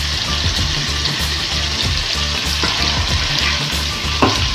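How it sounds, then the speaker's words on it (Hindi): Finely minced chicken keema sizzles and fries steadily in hot oil with ginger garlic paste, a continuous close crackle with occasional stirring scrapes of the pan and no talking. "इसको अच्छे से फ्राई करेंगे"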